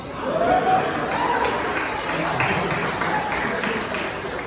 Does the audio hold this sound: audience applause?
yes